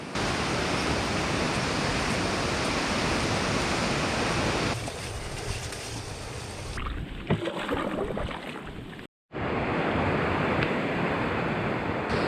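A waterfall and rapids at Nutcracker Falls on a whitewater canoe route give a loud, steady roar of rushing water that softens partway through and briefly cuts out near the end.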